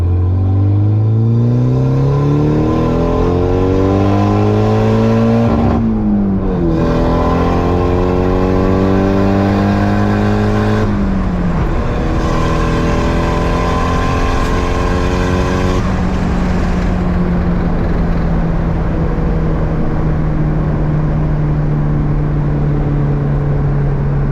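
A car accelerates hard through several gears, its engine note climbing loud and steady with brief dips at each shift, ending in a long high cruise.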